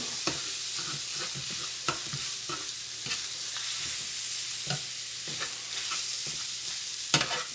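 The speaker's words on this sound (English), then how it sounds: "Now we get this meat chopped up." Sausage meat fries in a pan under a steady hiss while a utensil chops and scrapes through it, giving irregular clicks and knocks scattered throughout, with no talking.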